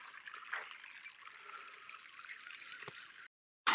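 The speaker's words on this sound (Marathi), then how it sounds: "वर पाणी चालू आहे आणि आपली ही बारीक बोरणी भिजत आहे" Water trickles and splashes steadily onto a seedbed of fine seedlings in a farm field, a soft continuous hiss that cuts out abruptly near the end before a brief louder burst.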